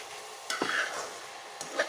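Radish fries in a pan with a soft, continuous sizzle while a utensil stirs it in two brief scraping strokes, close and fairly quiet.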